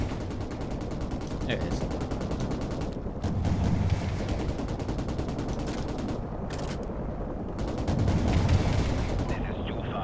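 Shotgun blasts in Call of Duty 4 Modern Warfare Remastered crack out in rapid bursts amid dense battlefield gunfire and rumbling explosions, with someone briefly speaking over the din.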